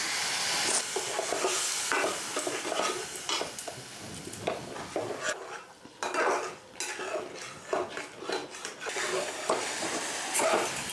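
Spice paste of turmeric, Kashmiri chili, cumin and coriander powders loosened with a little water frying in a pan for a Bojuri fish curry, with steady close sizzling broken by repeated clinks and scrapes of a spoon against the pan.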